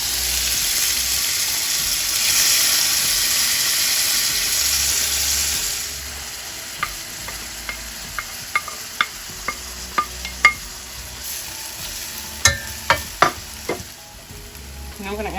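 Bay leaf, onions, peppers and garlic fry in a pot, starting with a loud, dense hiss that drops to a softer sizzle, overlaid by a series of sharp spoon taps and scrapes against the pot.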